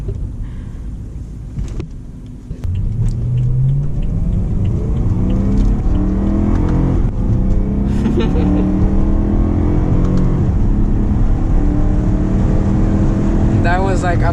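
A BMW M3 E93 with a naturally aspirated engine revs up to about 6,000 RPM, its note climbing steadily and staying loud and close for several seconds, while people talk over it inside the car.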